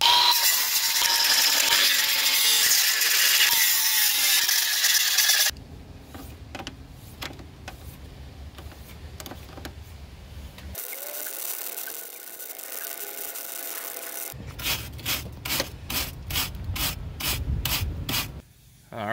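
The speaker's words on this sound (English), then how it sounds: "I'm just gonna grind this down a little bit, clean it up, and then zap this back on." An angle grinder works down a weld on a Jeep Cherokee XJ driver's door hinge, with loud continuous grinding, a quieter stretch with scraping passes, a brief pause, then renewed rhythmic bursts of metal grinding.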